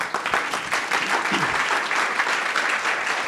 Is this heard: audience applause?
yes